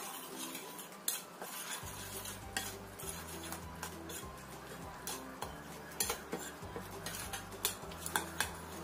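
A snack mixture with an egg added being stirred in a bowl or pan, with a spoon clinking and scraping against the sides in a quick, uneven rhythm, close and quiet, over a faint low hum and no speech.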